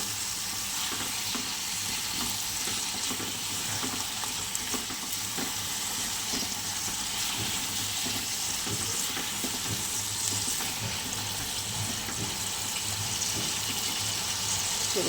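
Food frying in a pan is being stirred, giving a steady close sizzle with repeated soft scraping strokes throughout. No one speaks.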